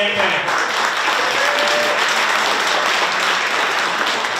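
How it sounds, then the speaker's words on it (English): Loud, sustained applause from an audience at a political nomination celebration fills the room evenly throughout, with a voice briefly audible over it at the start. "Can we get a round of applause for the man of the hour, Ken?"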